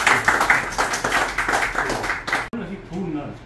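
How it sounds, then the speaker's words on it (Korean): An audience at a Korean lecture forum claps together in a steady, fairly loud patter for about two and a half seconds, then breaks off suddenly and a voice speaks. "우리 박수 한번"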